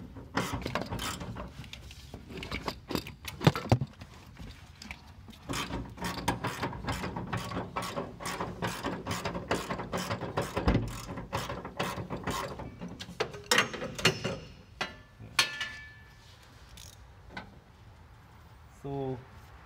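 A ratchet with a 13 mm socket loosens a car hood bolt, giving a long series of rapid, close clicking bursts with pauses between strokes and a few metallic clanks.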